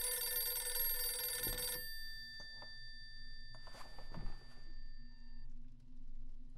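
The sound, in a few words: telephone ringing in video game Visage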